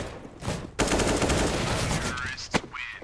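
MP9 submachine gun fire in a Counter-Strike match, a sustained loud rapid burst lasting a couple of seconds, then a single sharp shot, with a commentator's voice faintly beneath.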